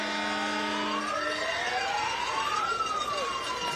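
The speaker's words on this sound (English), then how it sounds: "they won't last long with these sirens and horns they got up here" Sirens wailing at a high school football game, Wise Central against a rival, with rising and falling tones sweeping over a steady crowd din, loud and continuous throughout.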